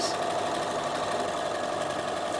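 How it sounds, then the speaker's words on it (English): Bernina sewing machine running straight stitching, a continuous even mechanical whir with no pauses, close and fairly loud. "I'm going to do my two rows of straight stitching"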